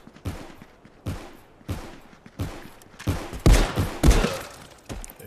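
A Desert Eagle pistol fires in the VR shooter game Contractors VR during a single-player wave, giving about eight sharp, evenly spaced shots that grow louder toward the end.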